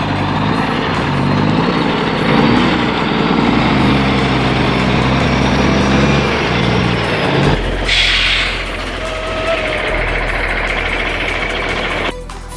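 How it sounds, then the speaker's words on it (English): A logging truck loaded with massive logs labours up a steep forest slope. Its engine drones loudly and steadily, then drops off sharply to a quieter rumble about two-thirds of the way through. "Right before my eyes stands a beast of a machine, carrying massive logs on its back, fighting to build momentum as it dares to conquer this treacherous slope."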